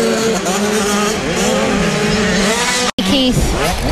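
Small-wheel 85cc motocross bikes race around a British championship circuit at Whitby, a loud continuous engine whine rising and falling as they pass, with commentary spoken over the top.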